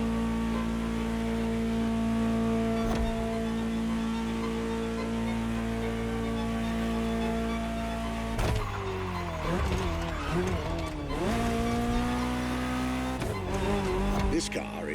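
A Ferrari 288 GTO Gran Turismo Omologato in The Crew Motorfest video game drones steadily at speed, then revs and shifts with brief tire squeal midway, under a narrator's voice.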